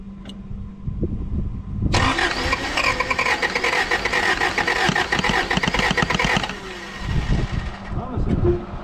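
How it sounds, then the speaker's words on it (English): A 1985 Toyota pickup engine cranks over with rhythmic, pulsing turns, loud and close, for several seconds before settling back, while a voice is heard around the noise. "we'll crank her over and see if she'll start real quick"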